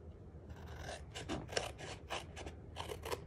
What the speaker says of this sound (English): We're going to snip off our corners.